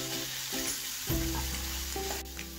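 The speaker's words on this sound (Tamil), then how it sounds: "இப்போ கிரீன் chilies ஆட் பண்ணி வதக்குங்க" Green chilies and bell pepper sauté in a hot pan, a steady close sizzle with a few stirring scrapes and a louder burst about halfway through; no talk.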